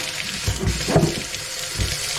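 Hot water runs steadily from a faucet on a newly fitted supply line, a constant close rushing and splashing with slight swells in intensity.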